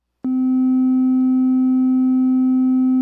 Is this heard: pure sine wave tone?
yes